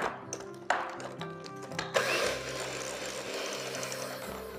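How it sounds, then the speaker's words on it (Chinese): An electric mixer beats butter while egg is added in stages for a German-style pudding tart, a steady motor whine with clattering against the bowl, then a smoother continuous whir once mixing runs fully. "好，我们继续搅打。"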